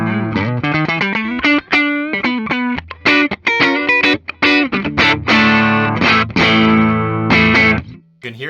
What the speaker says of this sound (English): You can hear they start to overdrive my amp.